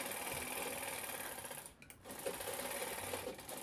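A sewing machine stitches a handbag with zip and piping in a fast, continuous mechanical whir, dropping out for a brief pause before running on.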